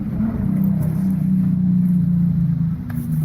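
A turbocharged car revs close by, making a continuous low engine rumble that holds steady for several seconds with slight swells in loudness.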